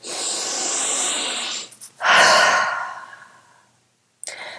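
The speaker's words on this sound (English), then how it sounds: "Inhaling through the nose if you can, and a strong exhalation." A strong exhalation during a guided breathing exercise, drawn in through the nose and pushed out hard. Two long, breathy rushes of air are heard up close with no talk, and a short puff starts at the very end.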